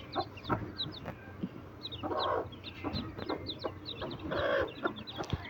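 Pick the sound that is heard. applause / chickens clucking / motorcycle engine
chickens clucking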